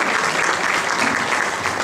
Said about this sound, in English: that applause is for you